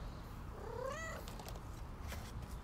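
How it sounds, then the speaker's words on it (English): A kitten gives one clear, rising-and-falling meow close by against a quiet, faintly noisy room background. "What are you doing, little kitten?"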